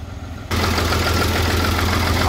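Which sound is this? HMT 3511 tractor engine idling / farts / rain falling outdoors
HMT 3511 tractor engine idling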